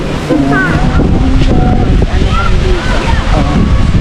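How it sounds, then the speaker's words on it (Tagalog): Strong wind buffets the microphone with a loud, constant rumble at a hilltop campsite at Digos Hills, Bulacan, Philippines, while people talk underneath. "Lakas ng hangin dito."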